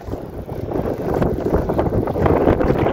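Gusty wind buffeting the microphone on a fishing boat at sea, a loud rumbling roar that swells and dips unevenly throughout.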